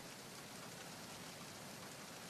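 Steady, dense rain hisses evenly throughout a Metal Gear Solid 2 cutscene, a soft continuous wash of downpour with no breaks, distinct drops or voices.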